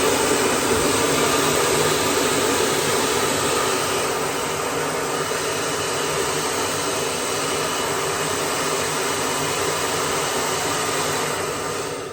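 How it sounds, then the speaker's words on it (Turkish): A hair dryer on its hot setting blows steadily and close by, a continuous loud whooshing roar held for about twelve seconds while heating the adhesive under a glued-on shelf. "fön makinemi getirdim sıcak modunda"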